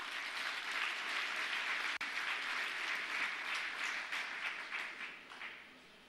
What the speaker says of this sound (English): And I think you all, with the chairman as the lead, deserve a round of applause.